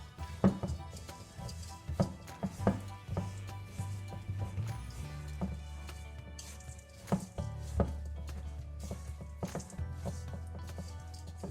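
Oats for flapjack are stirred in a bowl, giving irregular close scraping, clacking and thudding knocks with a faint steady hum underneath and no speech.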